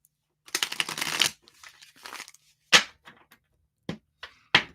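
Tarot cards shuffled by hand: a dense riffling burst, a softer pass, then several sharp separate snaps and taps of the deck, close and clear with no talking.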